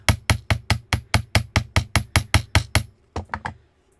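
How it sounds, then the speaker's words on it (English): A hammer taps wire between a bead and a wire loop while jewelry is being made, striking about a dozen sharp, evenly spaced blows, then three quicker, lighter taps before stopping. "I'm placing it on the edge here and hammering between the bead and the loop at the top."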